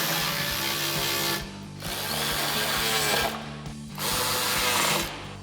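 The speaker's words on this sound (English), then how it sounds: "Now we'll take our 8mm socket and tighten these down." A ratchet with an 8mm socket tightens bolts on a Jeep Wrangler JL during a suspension lift install, giving rapid clicking bursts separated by short pauses, close and moderately loud.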